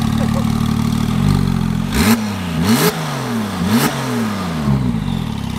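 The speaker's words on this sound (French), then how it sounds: "Et qui a dit que les moteurs turbo ça sonnait pas bien?" A turbocharged car engine revs repeatedly in sharp bursts, rising and falling in pitch with a whistling whoosh between revs, fairly close.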